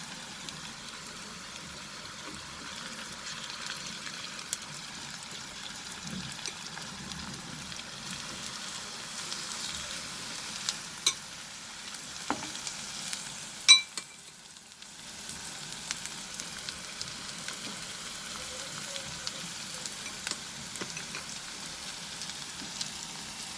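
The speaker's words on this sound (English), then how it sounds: "Reduce the flame when you're adding the prawn to the karai." Marinated prawns fry in a karai over a reduced flame, giving a soft steady sizzle throughout, with a few brief clinks and stirs and a short quieter gap midway.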